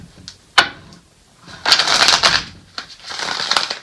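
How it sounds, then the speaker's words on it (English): A deck of playing cards is shuffled close up for a tarot-style reading, with a sharp tap and then two bursts of rapid riffling flutter separated by a short pause. "I'm gonna shuffle."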